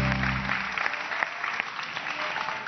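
A studio audience on a Turkish television talk show applauds a singer, steady dense clapping that fills the room from start to finish, with a low music tail fading out at the very beginning.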